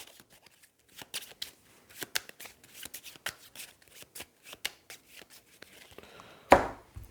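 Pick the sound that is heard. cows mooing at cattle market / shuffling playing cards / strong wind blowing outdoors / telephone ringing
shuffling playing cards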